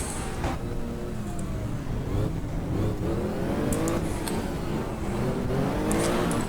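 Race cars idling and rolling off on a formation lap in the GTR2 racing game with the Power and Glory mod, a steady low engine drone with rising revs and faint higher whines, constant and fairly close.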